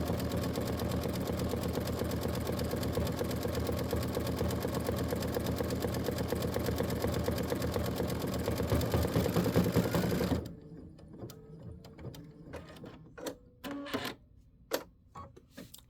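A sewing machine stitches a quilt block in a fast, steady mechanical whir that runs unbroken for about ten seconds, then stops and leaves scattered quiet handling clicks and taps.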